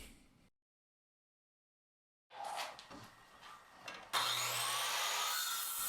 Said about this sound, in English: Here I am again, cutting it and then knocking it out with the hammer and chisel